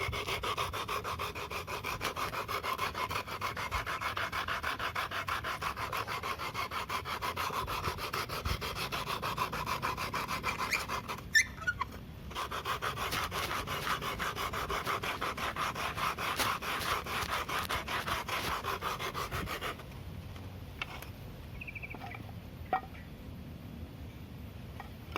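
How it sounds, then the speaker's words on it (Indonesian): Sanding a wooden canvas stretcher frame by hand, a steady continuous rasping scrub with rhythmic strokes that briefly pause and then resume more quietly near the end. "Setelah dipotong dan disikukan, itu selanjutnya diamplas."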